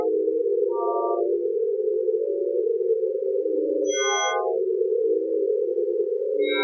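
Sonified stellar flares: a steady, low sonar-like electronic tone wavers in pitch throughout, broken by a few brief bursts of higher beeping tones stepping downward, alone and fairly loud.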